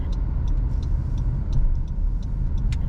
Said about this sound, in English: I'm driving around the downtown square real quick.